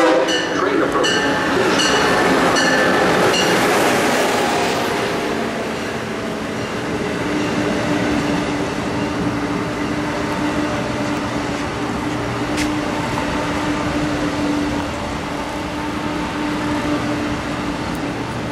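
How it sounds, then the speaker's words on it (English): Amtrak passenger train pulling into a station platform on Route 128, a steady rumble of wheels and rail noise building loudly at first then settling into a continuous roll, with faint clatter and an automated announcement voice over it. "Train approaching. Please remain behind yellow line."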